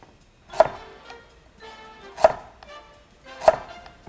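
A kitchen knife chops eggplant into pieces on a cutting board, three crisp, evenly spaced strikes about a second and a half apart, close and clear with quiet pauses between.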